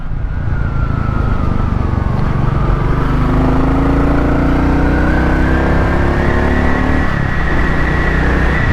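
A Royal Enfield motorcycle, either a Meteor 350 or a Classic 350, pulls away and accelerates, its engine note rising steadily under loud, constant wind rush recorded from the rider's position.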